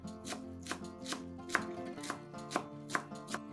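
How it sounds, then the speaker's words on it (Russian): A knife chops a bunch of parsley on a board in a home kitchen, with steady, evenly spaced sharp chops close up and no talk. "Пучок петрушки тоже измельчаем ножом."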